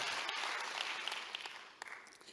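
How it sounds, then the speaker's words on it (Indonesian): A church congregation claps in a thick, steady burst that gradually fades, faint and somewhat distant. "kalau cuma tepuk tangan seperti ini"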